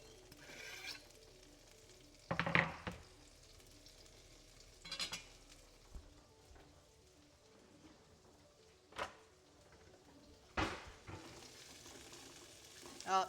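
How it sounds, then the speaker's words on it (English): Butter sizzles softly in a pan as leeks go in for a chicken and leek pie, a low steady fizz under scattered clatter and a few louder bumps. "can you hear that sizzle of the butter?"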